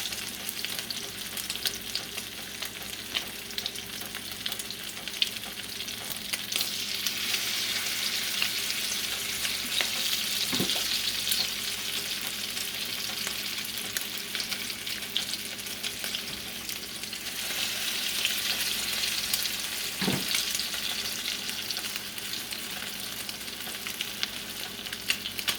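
Salmon patties fry in a hot pan with a steady, close sizzle and crackle. The sizzle swells and eases now and then, and two brief low knocks come through.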